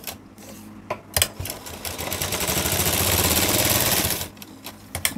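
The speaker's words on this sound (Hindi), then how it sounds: "इसके ऊपर हम अपनी सिलाई लगा लेंगे" A sewing machine stitches blouse fabric in a rapid, steady mechanical run of close-up needle clatter that builds through the middle and stops, with brief knocks and handling sounds before and after.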